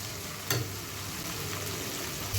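Ginger-garlic paste frying in hot oil for a chicken curry gives a soft, steady sizzle with a couple of brief louder spits, faint and continuous with no talking.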